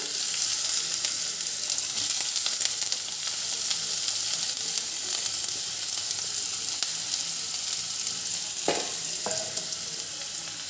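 Green chillies and potatoes frying in a pan over black cumin seasoning for shapla bhaji (water lily curry), a constant loud sizzle with a couple of sharp spatula clinks near the end and no talking.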